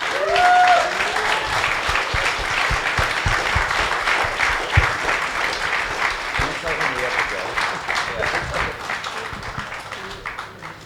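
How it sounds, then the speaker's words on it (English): An audience at a Web3 panel during NFT NYC 2022 claps in sustained applause that gradually tapers off, with voices speaking over it. "if we can give you a round of applause"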